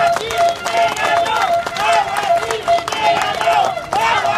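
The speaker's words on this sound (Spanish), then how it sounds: "¡Palmas, compañeros, palmas!" A protest crowd at a farmers' march in Huaral defending water rights claps in a steady rhythmic beat, close and loud, with shouting voices and chanting mixed over the clapping throughout.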